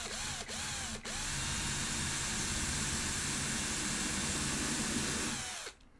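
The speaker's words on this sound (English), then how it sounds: "Now when I drill through, it won't ruin my tabletop." A power drill whirs up in a couple of short bursts, then runs steadily as it bores through timber before spinning down.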